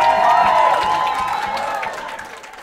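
Wedding guests applaud and cheer at a Disney-themed wedding reception, a dense, steady wash of clapping from a crowd that slowly fades across the moment.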